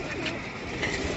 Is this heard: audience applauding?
no